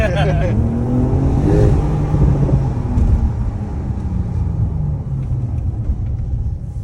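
A 650-horsepower Porsche 992 Turbo S drives along with a deep, steady engine rumble that swells briefly, and someone talks over it.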